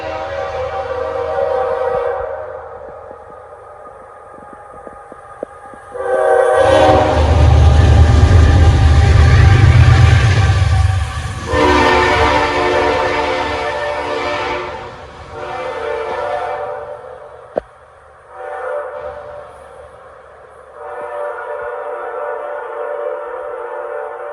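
A train passes close by with a loud horn blast in the middle, wheels and cars rumbling through before fading, in a mountain community with long stretches of engine noise before and after.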